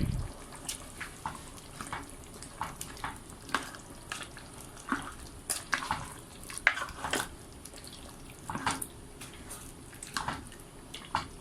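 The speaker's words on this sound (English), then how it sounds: "now I'm gonna give it a gentle stir" Palava sauce, a Ghanaian spinach stew with tomatoes, is gently stirred in a pot, giving soft, irregular wet scrapes and sloshes with faint bubbling between them, close by and quiet, with no talk.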